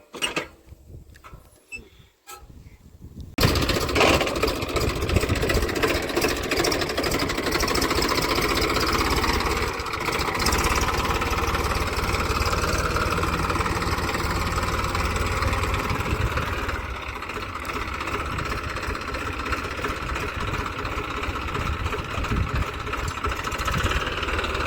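A Massey Ferguson 1035 DI tractor engine runs with a steady, loud diesel chug and rattle after a few quieter knocks and handling noises at the start.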